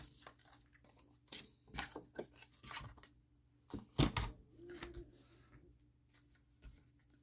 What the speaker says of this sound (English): And we're going to cut that part off.